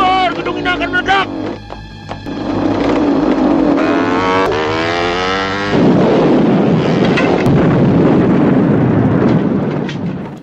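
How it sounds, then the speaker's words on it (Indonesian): A building blows up from dynamite in a film scene, a loud sustained roaring blast with rumbling debris that swells and holds for several seconds, with music and a brief shouted voice early on. "Keluar! Gedung ini akan meledak!"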